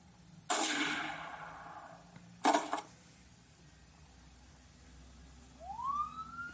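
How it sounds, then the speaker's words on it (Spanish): An ambulance siren used as a foreground sound effect in a Spanish-language radio drama, arriving as a brief rising wail after two short bursts of noise, fairly faint and heard alone. "en primer plano la sirena de la ambulancia"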